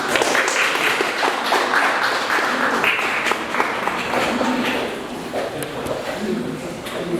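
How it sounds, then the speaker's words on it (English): A lecture audience at Fremont breaks into a round of applause, dense sustained clapping filling the room, loud at first and easing slightly toward the end. "round of applause"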